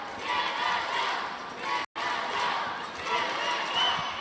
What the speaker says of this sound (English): We get some dueling Canada and USA chants from the crowd